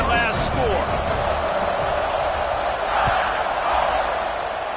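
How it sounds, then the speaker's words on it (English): Crowd at a football stadium buzzing after a score and extra point, a broad, steady roar of many voices filling the whole stretch at high level with no distinct breaks. "this crowd is buzzing after that last score"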